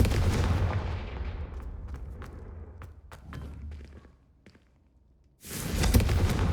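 A Confringo fire spell cast in a video game: a loud rumbling blast that fades into a few sharp, punchy impacts and near silence, then a second heavy burst erupts.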